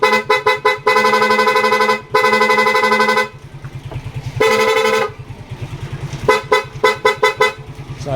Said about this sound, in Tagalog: Loud horn. May rapid sound.